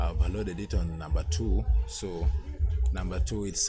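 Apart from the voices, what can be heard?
No everyday noises stand out.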